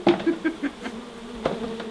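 Angry wild bees from a hive in a kitchen cupboard give a steady close buzzing drone, with a few dull knocks near the start and again later.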